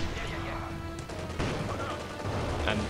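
A Cromwell cruiser tank's 75mm cannon fires in the video game Company of Heroes 2, with booming shots over dense battle noise and someone talking over it.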